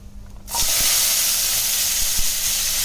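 Small onions, garlic cloves, curry leaves and ground spices hit hot oil in a pan for chickpea curry, bursting into a loud, close hissing sizzle after half a second of quiet and holding steady to the end.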